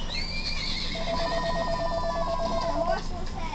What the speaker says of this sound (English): I'm not answering your fucking phone calls